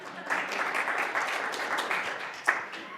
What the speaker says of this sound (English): You guys can clap again if you would like